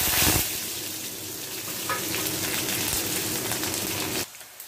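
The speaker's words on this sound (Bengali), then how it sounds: "জিরে, তেজপাতা, শুকনো লঙ্কা দিয়ে দিলাম ফোড়ন, আর এর মধ্যেই দেব পেঁয়াজ।" Onion, cumin, bay leaf and dried chili hit hot mustard oil in a pan, giving a loud, steady sizzle that runs for about four seconds and then cuts off abruptly, leaving near silence.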